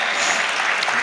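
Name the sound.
applause for the family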